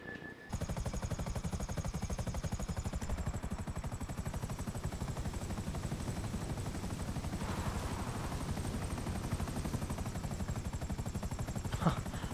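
Rotor chop of a luxury helicopter in GTA 5 Online, a fast steady thumping beat with a high engine whine, holding loud and constant throughout after a brief quiet start.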